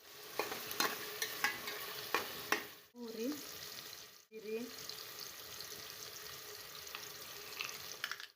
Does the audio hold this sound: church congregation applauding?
no